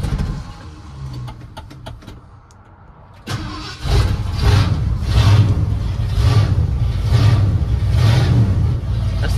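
A 1978 Ford F100 pickup engine cranks briefly and catches, then settles into a loud, close idle with repeated throttle blips that rise and fall in a steady rhythm.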